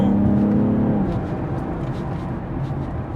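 A BMW M340 accelerates hard through a turn, its engine note rising strongly at first then settling into a sustained loud roar with road and tyre noise, heard from inside the car.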